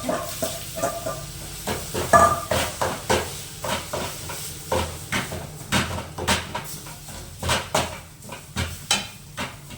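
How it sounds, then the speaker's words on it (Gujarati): Cumin and sesame seeds sputter in hot oil while a spoon scrapes and clinks against the pot in quick, uneven strokes. "અને પછી આ મસાલાને વઘારી નાખવાની"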